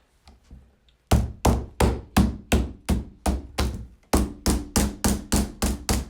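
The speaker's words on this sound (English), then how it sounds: "Again, use your mallet for this step." A mallet tapping pegs into the front door holes of a two-layer chicken cage: a few faint taps, then a steady run of sharp, evenly spaced knocks close by, with no voices.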